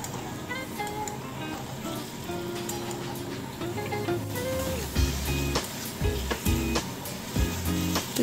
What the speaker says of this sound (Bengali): তারপরে যে ম্যারিনেট করা চিকেনটা ছিল ওটা এটার মধ্যে আমরা দিয়ে দেব।